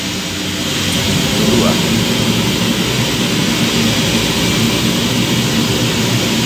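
Weishaupt WM-G10 gas burner firing at stage 2, a loud, steady, broadband roar that holds constant throughout, with a low rumbling body and hiss on top.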